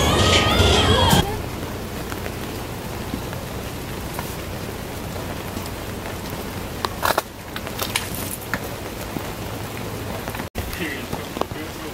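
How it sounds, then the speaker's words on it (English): Heavy rain pours down in Taipei, a dense steady hiss of drops on surfaces that continues throughout, with a short burst of louder sound at the start and a few faint knocks later. "It's raining pretty bad."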